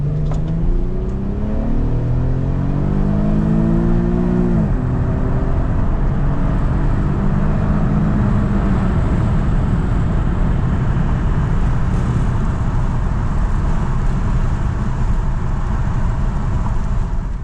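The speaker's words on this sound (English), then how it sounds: "putting it in drive, dumping the pedal." Nissan VQ37 engine breathing through a K&N drop-in air filter, pulling hard from a standstill: rising engine tones in the first few seconds give way to a loud, steady, sustained roar.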